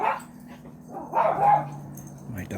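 Dog named Buster barking at squirrels, a few short close barks and yips spaced across a couple of seconds over a quiet indoor background.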